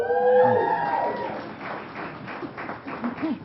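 A supporter group gives a short burst of applause and cheering at a school district board meeting, with the clapping fading into scattered claps and murmuring voices.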